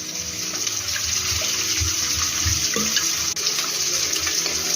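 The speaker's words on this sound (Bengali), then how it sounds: "জলের সঙ্গে গুলে নেব।" Water runs from a kitchen tap or is poured steadily into a bowl to mix a spoonful of cornflour into a slurry for egg chilli, a continuous close splashing flow with no talk.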